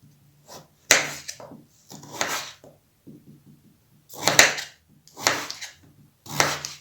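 Knife strokes chop potatoes on a wooden board in a home kitchen, sharp close thuds arriving in bursts of several cuts with short pauses between, no talking.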